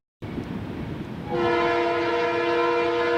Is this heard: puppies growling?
no